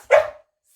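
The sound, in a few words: dog barking on command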